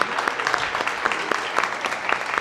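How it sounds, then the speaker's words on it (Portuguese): An audience applauds at a book-signing interview event, a dense, steady clapping of many hands, close and continuous throughout, with no speech over it. "Uma salva de palmas, Ari."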